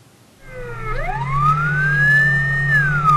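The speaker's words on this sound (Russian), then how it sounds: "как реагируют водители краевой столицы на спецсигналы и уступают ли дорогу скорой" An ambulance siren starts up and rises into a long, steady wail over a low engine hum, sounding close by.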